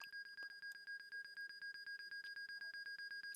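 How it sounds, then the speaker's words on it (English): A cockpit warning alarm in a Pilatus PC-12 in X-Plane 11 beeps rapidly and steadily after a gear collapse, an evenly pulsed electronic tone repeating without pause, fairly quiet. "I can't seem to figure out how to turn this alarm off"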